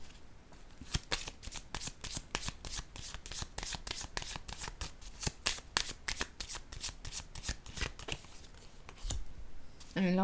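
Tarot cards shuffled in rapid, steady riffling bursts that fill most of the stretch, with a brief pause, ending with a quiet voice speaking French.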